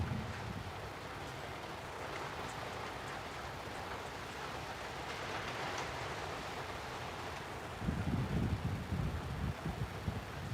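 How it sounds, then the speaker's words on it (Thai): Rain falls steadily as a soft, even hiss with gusty wind noise, faint and continuous throughout, with a louder low rumble near the end. "ฝนตกอีก"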